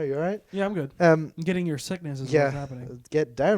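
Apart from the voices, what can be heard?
No everyday noises stand out.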